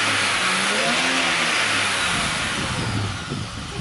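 A family car that has just been fixed, revving loudly and steadily up close with a rough, roaring engine note that eases off slightly near the end, with no talk over it.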